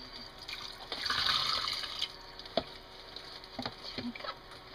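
Tap water pours into a small container for about a second, a soft rushing burst that fades into scattered drips and light clicks, close by and fairly quiet.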